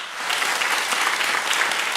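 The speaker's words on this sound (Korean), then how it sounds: "우리 박수로 우리 한번 환영하도록 하겠습니다" Loud, close applause from a church congregation during a Sunday worship service welcoming a visiting elder, dense and steady clapping throughout.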